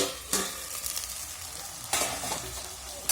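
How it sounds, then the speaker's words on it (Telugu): Sliced ridge gourd frying in plenty of oil, with a steady sizzle broken by two louder scraping stirs of a spatula in the pan; no talking. "నూనెలోనే బాగా ఉడికిపోతున్నాయి"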